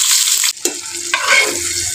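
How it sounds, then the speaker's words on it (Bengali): Fish frying on a stove beside a pot of simmering aubergine curry, a loud close sizzle with a brief dip and a few clattering touches of a utensil in the pan. "আমি পাশের চুলায় মাছ ভেজে নিচ্ছি"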